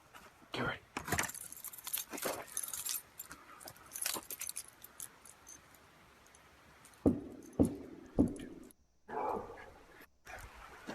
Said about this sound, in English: Get my keys.